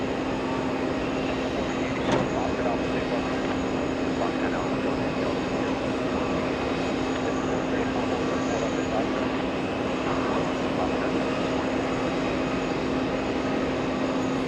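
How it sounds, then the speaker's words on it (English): A JetBlue Airbus A320 jet departing John F. Kennedy International, its engines a steady broad roar with a constant tonal hum, sustained and fairly loud throughout. "JetBlue 2325 heading to Tampa, Florida. That's an A320 getting move on,"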